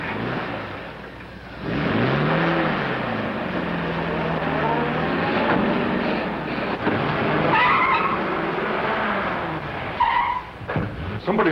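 A car from around 1940 tears away with tyres skidding and screeching, its engine revving hard in a sustained loud burst, then rough bumps and clatter toward the end.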